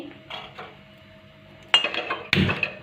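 A metal kadhai is set down on a gas stove with two sharp, close clanks, one after a quiet stretch and the next a moment later, ringing briefly over faint kitchen background.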